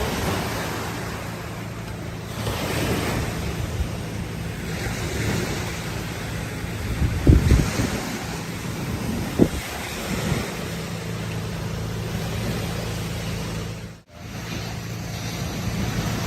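Sea waves wash at a beach under steady wind and noise from wind buffeting the microphone, with a couple of louder surges partway through and no talking.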